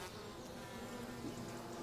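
Bees buzzing near a hive in a tree, a faint continuous hum, quiet and steady throughout.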